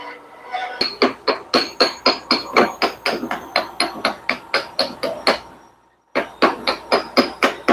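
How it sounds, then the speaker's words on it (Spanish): A chisel struck with a hammer knocks welding slag off a steel bar, producing a quick, regular series of close, sharp metallic taps that stops briefly and then resumes. "Estamos utilizando un método mecánico, un cincel, y golpeamos donde vemos la cascarilla para que ella afloje y caiga."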